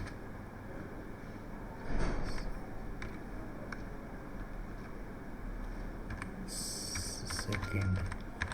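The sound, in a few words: typing on a computer keyboard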